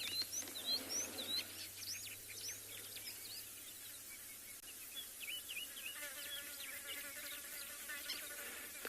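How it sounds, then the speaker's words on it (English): A Kalahari scrub robin sings sharp, melodious whistled phrases at sunset in the Tswalu Kalahari reserve. Other birds chirp faintly in the distance over a steady hum of insects, and no one speaks. "The most dominant call that you folks can hear there is the Kalahari scrub robin"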